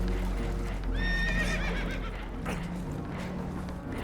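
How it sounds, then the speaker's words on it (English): Spooked horses aboard a boat taking on water in Red Dead Redemption 2 let out loud, shrill whinnies with a quavering rise and fall, one after another over low rushing water and creaking noise. "Horses are spooked, and we're taking on water"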